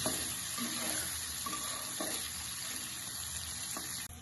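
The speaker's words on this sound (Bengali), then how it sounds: "মটরশুঁটি, একটু হালকা ভেজে নেব।" Green peas with turmeric powder fry lightly in a pan with a steady, soft sizzle and occasional stirring taps from a spoon.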